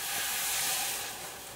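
Heavy whipping cream simmering in a pot on the stove, a steady close hiss with soft bubbling that fades slightly toward the end, no voices.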